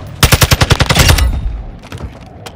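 A rapid automatic burst of about a dozen gunshots in Call of Duty: Modern Warfare II, loud and close, followed by a fading echo and scattered distant noise.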